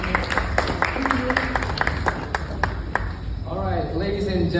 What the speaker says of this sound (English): let's give her a round of applause for our teacher Sarah, who accompanied us with some performance